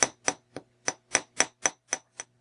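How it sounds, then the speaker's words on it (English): A 2-ounce ball peen hammer lightly taps a metal earring on an anvil: nine crisp, ringing metallic taps in an even, unhurried rhythm, close and clean with no talk. "Using my 2-ounce ball peen hammer, I hammer the metal ever so lightly."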